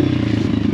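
A 150cc Apollo RFZ pit bike engine drones loudly and steadily on a trail, a close, continuous buzzing rumble over a brief stretch with no voices.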